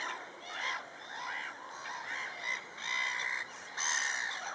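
Black-headed gulls call at a lake amid a busy waterbird colony, shrill squawks and harsh cries overlapping continuously at close to mid range, with louder bursts near the end.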